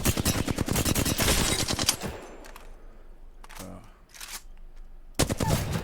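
Rapid bursts of Flatline rifle fire in Apex Legends, Season 13, loud and close, a dense automatic volley, then a pause and a short single burst, with a final burst near the end.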